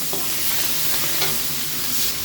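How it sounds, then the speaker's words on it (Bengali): Shrimp stirred in hot oil with chilies and bay leaf sizzles in a steady, bright hiss, close and loud, with faint scraping of the stirring and no talk. "চিংড়ি মাছটা তেলের উপরে নেড়ে নেব"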